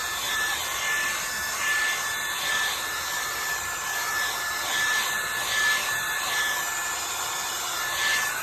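A hair dryer blows steadily over wet watercolor paint on paper, a close, loud, continuous whooshing hum with slight wavering in intensity throughout.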